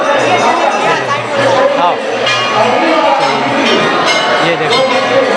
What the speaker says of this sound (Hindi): ये देखो भक्तों से पूरा भीड़ है आज राम मंदिर।